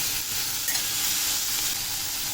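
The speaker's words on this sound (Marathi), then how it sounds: "भाज्या चांगल्या परतून घ्यायच्या तेलात शिजतात लगेच" Mixed vegetables sautéing in oil in a pot for hotel-style sambar, a steady, close hissing sizzle with light stirring that runs evenly throughout, with no talking.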